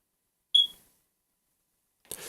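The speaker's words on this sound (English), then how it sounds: "the smoke detector is alive in my house who likes to talk" A household smoke detector gives one short, high, piercing chirp that fades fast into silence, followed by a brief unrelated rustle near the end.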